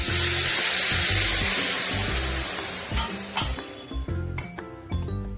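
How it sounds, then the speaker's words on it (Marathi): Hot water poured onto brinjals frying in oil bursts into a loud hiss that fades, followed by stirring and metallic clinks of the pan. "आता थोडं गरम पाणी ॲड करून"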